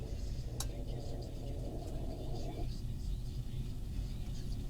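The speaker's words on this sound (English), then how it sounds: "Literally my stomach growling." Low, rumbling stomach growl from a hungry person, a murky gurgle lasting a couple of seconds over quiet room noise before fading, with no talking.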